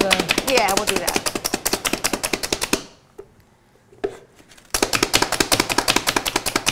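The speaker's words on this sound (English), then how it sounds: "Now you're chopping up your carrots." Carrots chopped in a food chopper make rapid, steady, loud rhythmic chopping that stops for about two seconds midway and then resumes at the same quick pace.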